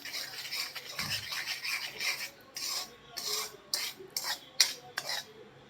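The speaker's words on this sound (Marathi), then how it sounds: "आणि सगळं मिश्रण एकत्र करायचं आहे, मिक्स करून घ्यायचं आहे." Spoon stirring ripe mango pulp mixed with sugar in a bowl, giving soft scraping and clinking strokes in an uneven rhythm, close and fairly quiet, with a faint murmur underneath.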